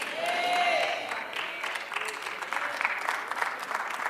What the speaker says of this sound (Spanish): 3 aplausos.